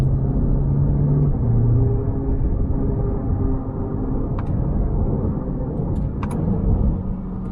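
Steady low engine rumble and road drone from a 2022 C8 Corvette heard from inside the cabin while driving, loud and continuous, with a few faint clicks and no talking.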